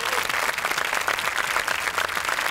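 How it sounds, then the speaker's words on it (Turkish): Studio audience applauding on a Turkish game show, a dense, steady clapping that fills the whole stretch at an even loudness with no talk over it. "Onlara kocaman bir alkış istiyorum."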